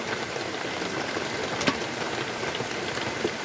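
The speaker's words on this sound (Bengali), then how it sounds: "আমাদের এখানে কিন্তু বৃষ্টি হচ্ছে" Rain falling on an Eid day, a steady close wash of raindrop patter with a few louder drips, continuous and even with no talking.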